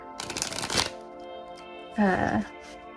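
A deck of tarot cards is shuffled close up, two quick riffling bursts separated by a short pause, with brief quiet talk in between.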